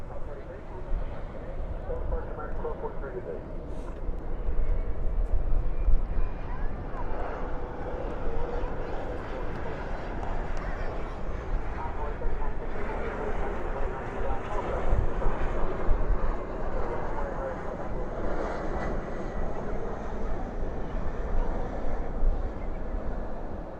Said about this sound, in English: This is United 2330 and A319 headed off to Denver.